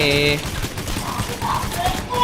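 Dense gunfire in the heist shooter game Payday: The Heist, a rapid continuous fusillade of overlapping shots filling the whole stretch, loud and close.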